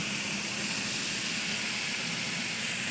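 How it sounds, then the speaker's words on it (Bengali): Vegetables frying in a pan for mixed biryani give off a steady, loud, hissing sizzle that holds unbroken from start to finish. "এবার সবজিগুলোকে ভাজছি"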